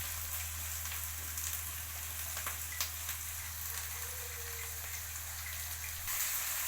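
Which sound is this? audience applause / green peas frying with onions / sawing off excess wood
green peas frying with onions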